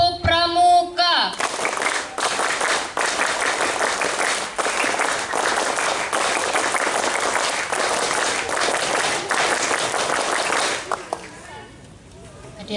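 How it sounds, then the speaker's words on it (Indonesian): A crowd of students at a school Scout anniversary ceremony does the Pramuka clap, a long run of rhythmic group clapping with accented beats, framed by a voice at the start and end. "Tiga kali tepuk Pramuka."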